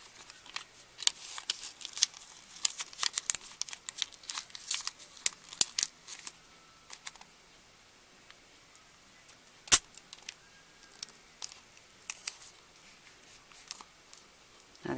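Paper is wrapped around a box like a present with tape: close, quiet crinkles, rustles and sharp tape pulls and rips come in irregular bursts with short pauses between, and no one speaks.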